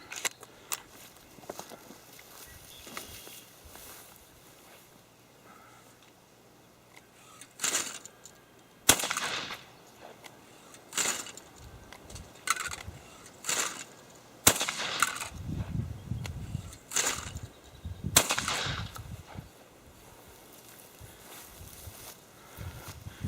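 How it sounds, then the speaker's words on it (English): A Fabarm XLR5 Waterfowler shotgun fires 1 1/8 ounce target loads, a series of sharp reports at irregular intervals with quieter gaps between them, heard from some distance outdoors. "You could shoot this gun all day, certainly with 1 1/8 ounce peppy target loads"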